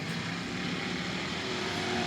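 Cars on a racing oval bunching up for a single-file restart, a steady broad engine roar held close and loud throughout with no gaps, swelling slightly toward the end.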